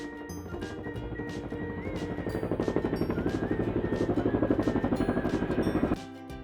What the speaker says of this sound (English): This is a helicopter. It goes up and down with spinning blades.